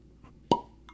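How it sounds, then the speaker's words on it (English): A single sharp cork pop, a TV show sound effect, rings out once, short and close, over a quiet background. "Cork pop."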